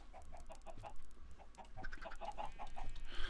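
Minecraft chickens cluck in a rapid series of short, clipped calls, fairly near and bunched together, over a faint low hum with no talk.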